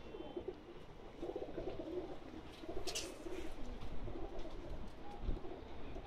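Pakistani Sialkoti pigeons kept by fanciers in Jeddah coo softly and steadily throughout, a low murmuring flock sound at moderate distance with no talking.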